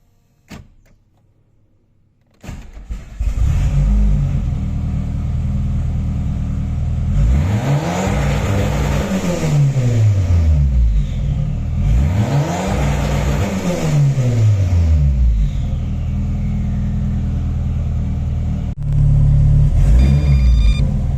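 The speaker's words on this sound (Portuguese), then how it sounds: "agora eu vou ligar o carro, vou deixar só ele esquentar um pouquinho porque ele está frio" A cold car fitted with a Fueltech FT450 cranks and starts after a short quiet spell, then idles and revs up twice in long rising-and-falling sweeps, loud and close, with a steady idle rumble between.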